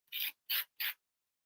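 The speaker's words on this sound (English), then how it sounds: "sand it and bring back the color underneath" A painted holiday decor product is sanded by hand in three short, even rasping strokes, close and crisp, each separated by a brief pause and followed by silence.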